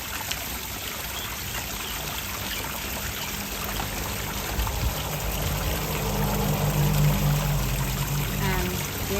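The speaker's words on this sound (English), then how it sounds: "And this is my water feature." A garden water feature trickles steadily into a small fish pond holding goldfish and guppies, a continuous close splashing wash that grows slightly louder toward the end.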